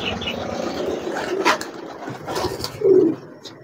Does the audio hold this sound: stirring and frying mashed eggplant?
no